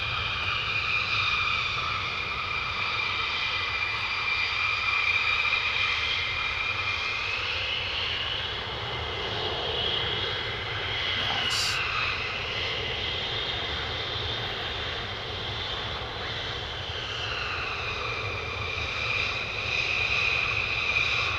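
A 48th Fighter Wing fighter jet taxiing and turning to park, a loud sustained engine whine with shifting high tones that rise and fall, close by and steady, with no voices.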